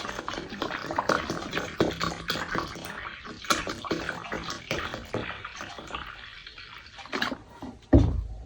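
Water poured by hand into a mixing bowl while making panipuri dough, a steady liquid splashing and pouring with soft clatter, close and fairly quiet, ending in a sharp louder knock.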